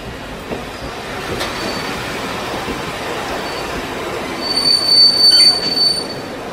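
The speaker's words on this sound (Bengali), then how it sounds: "ট্রেন থামল" Train pulling into a station and stopping, a steady rumbling roll with rising shrill wheel squeals toward the end, loud and close, for a Bengali audio drama.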